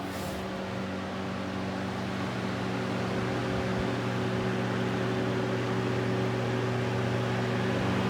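A vintage Mimar 425 electric fan runs on its high setting, giving a steady, close whirring hum with a slight rattle that continues without a break.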